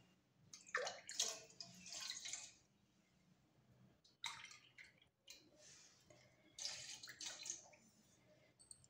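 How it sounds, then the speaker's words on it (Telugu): Water poured from a glass onto sago pearls in a pot for a summer fruit custard, two separate pours with splashing and trickling bursts separated by pauses, fairly close and moderately loud with no talking. "వీటికి 3/4కి ఒక 2 గ్లాస్ వాటర్ వేస్తాను."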